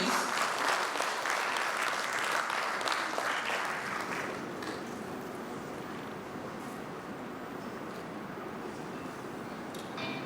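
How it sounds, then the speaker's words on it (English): Audience applause at a Polaris Bank app launch event, a dense loud burst of clapping that gradually thins and settles into a lower, steady patter over about ten seconds. "Can we give him one more round of applause?"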